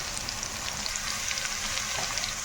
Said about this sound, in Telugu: కాకరకాయని మధ్యలో కలుపుతూ ఉండాలండి. మాడిపోకుండా ఉండడానికి మాత్రం మధ్యలో కలుపుకుంటూ ఉండాలి.